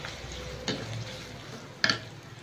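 Handful of onions dropped into hot oil with fenugreek seeds in a pan on full flame for Tamil fish curry, giving two sharp sizzling bursts over a low steady frying hiss.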